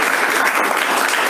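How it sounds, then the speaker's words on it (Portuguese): A church congregation claps together in steady, dense applause for a short moment, close and lively, with no voices over it. "Você pode aplaudir."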